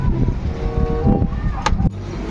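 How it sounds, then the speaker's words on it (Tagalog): Strong wind buffets the microphone with a steady low roar, gusting unevenly, with faint background sounds and a brief sharp knock near the end. "Sobrang lakas na hangin."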